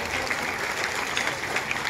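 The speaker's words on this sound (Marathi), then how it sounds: "जरा टाळ्या होऊन जाऊ देत, आवाज येऊ दे." An audience at a Dussehra festival event claps loudly and continuously for the whole short stretch, a dense, even burst of applause with no voices rising above it.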